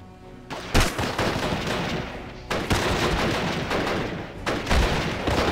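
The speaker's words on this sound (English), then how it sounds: "German grenadiers are firing at us." German grenadiers firing machine guns in the WWII strategy game Steel Division Normandy 44, with loud rattling bursts and impacts recurring every couple of seconds over a sustained battle din.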